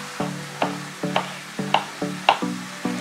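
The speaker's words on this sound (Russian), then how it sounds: "Мясо перевернуло на вторую сторону. Пусть вторая сторона тоже обжаривается." Meat sizzles in a frying pan for a Georgian dish of meat with mushrooms, with bursts of crackling spatter recurring every half second or so as the meat is flipped and browned. Steady and close, with no voices.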